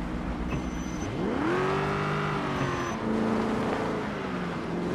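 A car engine in the video game Project Zomboid revs up loudly, the pitch climbing sharply then holding a steady high drone with a second rise, close and continuous with no talk.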